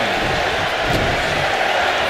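A video game wrestling arena crowd in WWE 2K25 during a Royal Rumble match sends up a steady, loud roar of massed voices, dense and unbroken throughout.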